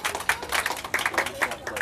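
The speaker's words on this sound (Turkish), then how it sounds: "Bir alkış alalım arkadaşlar." A small group claps in scattered, uneven bursts, fairly close, with voices murmuring underneath.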